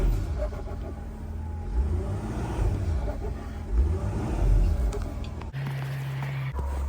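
A car engine revs and strains while stuck in snow, a loud, continuous low rumble with surging peaks that cuts off abruptly near the end and gives way to a steady lower hum.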